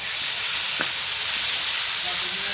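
Two small chopped tomatoes frying with onions and masala in a hot pan give a steady, loud, close sizzle throughout, with a faint clink of stirring; no voices.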